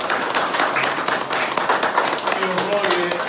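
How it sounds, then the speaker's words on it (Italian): An audience at a local event in Amaseno, Italy, applauds for Giuliano with a dense, steady patter of clapping, voices mixed in beneath. "io vi chiedo un applauso per Giuliano"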